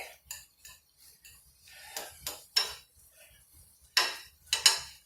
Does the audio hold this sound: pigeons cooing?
no